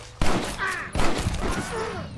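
Gunfire in a Red Dead Redemption multiplayer match, with loud shots and their echoing reports layered over busy game sound, under a voice speaking.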